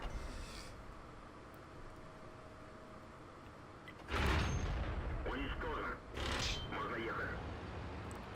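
A tank shell bounces off armor in World of Tanks, a loud metallic impact with a ringing crash and rumble arriving after a quiet engine drone, followed by a second heavy hit moments later.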